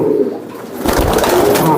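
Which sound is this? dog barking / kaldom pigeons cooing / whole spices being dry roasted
kaldom pigeons cooing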